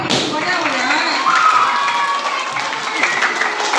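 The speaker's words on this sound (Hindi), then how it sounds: "और ताली दियो" Children at a summer camp clap and cheer together, a steady, fairly loud wash of applause with chatter and voices mixed in throughout.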